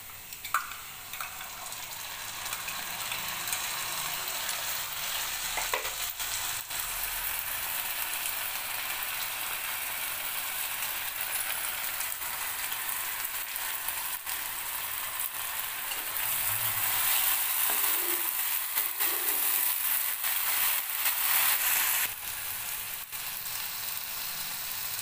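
Garlic, chili, ginger and cumin paste frying with browned onions in a pan, a steady soft sizzle with stirring scrapes, swelling louder for a stretch before settling back.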